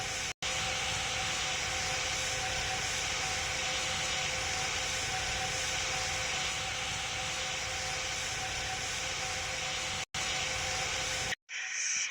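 Inside the Roblox flight game PTFS, an airplane engine in flight produces a steady, even cabin drone that stays loud and constant, with two brief dropouts near the end.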